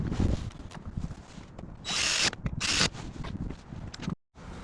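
A power drill tightens bolts while Prinsu Ridgeline handles go onto a 2020 Tacoma TRD Pro, giving two short, loud whirring bursts against scattered handling clicks and knocks, then a brief silence.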